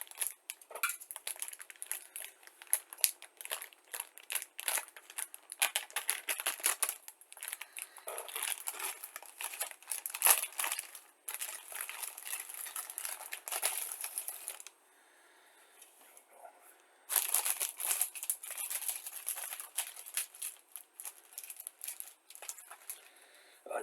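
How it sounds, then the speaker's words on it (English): A heat-sealed plastic bag from an Academy 1:72 King Tiger model kit crinkles and crackles close up in dense bursts of rustling, with a brief quiet gap before the handling resumes. "we have a single heat-sealed plastic bag."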